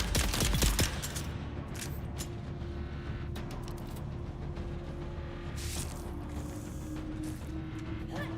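Gunfire in the video game Dune, a dense rattling fusillade at the start and then a steady mechanical drone with scattered sharp bursts, loud and continuous without talk.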